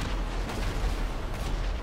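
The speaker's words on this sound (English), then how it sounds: "Oh, I hear explosions." Low, rumbling booms of explosions and an airstrike in a video game roll continuously at moderate volume, with no talk over them.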